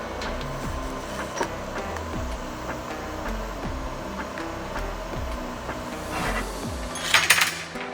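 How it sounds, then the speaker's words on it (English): A nut is welded onto the back side of a hood pin for a turbocharged and supercharged Mini Cooper time-attack car, giving a steady, close crackling buzz dotted with sharp pops that swells briefly near the end. "But first we gotta weld a nut to the back side of this."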